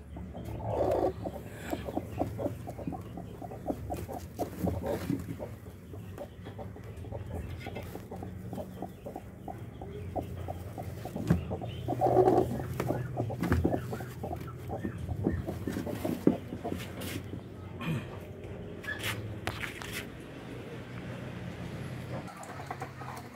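Rhode Island chickens clucking softly and steadily on a farm, several birds murmuring at moderate distance with occasional louder clucks and rustling, no clear talking.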